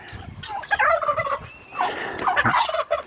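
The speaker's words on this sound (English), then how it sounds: "And gobbling. He's done some gobbling this morning." Royal Palm turkey gobbling nearby, two loud rattling gobble calls in quick succession that fill the short stretch with no talking over them.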